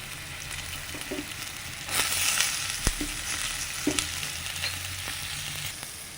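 Diced onions sizzle steadily in hot oil, the frying swelling louder as they are stirred, with occasional clinks of a utensil on the pan.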